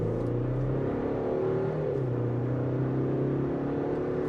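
A 2023 Chevrolet Colorado WT pickup with a 300 hp turbo four-cylinder accelerates, its engine droning steadily with rising and shifting tones under a constant cabin hum, heard from inside, no speech.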